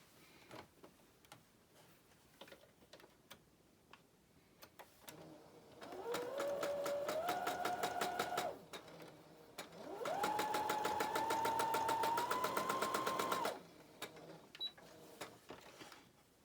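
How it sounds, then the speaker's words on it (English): Sewing machine stitching quilt blocks along a drawn diagonal line, running in two steady rapid-needle bursts with a rising motor whine, with light handling clicks in the quieter stretches before, between and after. "Okay, then we're going to sew right on the line."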